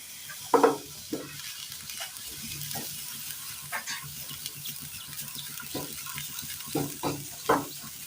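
Grated carrot frying in a hot pan, a soft steady sizzle with scattered louder scrapes and stirring clacks at irregular intervals, close and alone with no talking.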